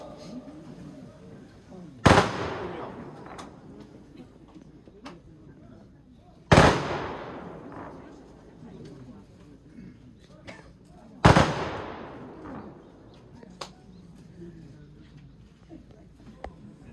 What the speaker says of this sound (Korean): 조총은 3회 발사됩니다. 조총 소리에 놀라지 않도록 유의하시기 바랍니다.